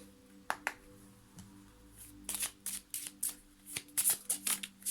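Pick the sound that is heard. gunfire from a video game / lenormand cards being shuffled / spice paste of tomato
lenormand cards being shuffled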